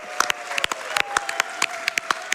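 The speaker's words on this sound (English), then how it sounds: "One more round of applause for Mythila in that amazing showcase." An audience at a speedrunning charity event claps after a Hollow Knight Silksong showcase, a moderately close patter of sharp, uneven claps over a faint steady tone.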